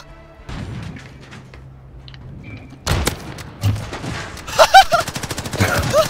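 Call of Duty gunfire in a multiplayer match: a quiet start with faint clicks, then a sharp shot burst near the three-second mark and a run of rapid, loud reports toward the end.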